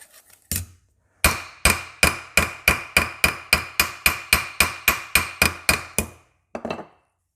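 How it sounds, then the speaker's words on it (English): Loud, rapid hammer strikes on a sheet metal panel to close a weld gap, a steady run of about fifteen sharp metallic blows with a couple of isolated hits before and after, no voices. "you can hammer the gap"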